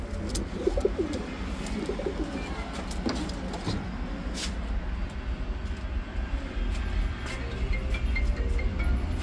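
Racing pigeons coo low and intermittently outdoors over a constant broad rumble of traffic and a passing aircraft, with no talk.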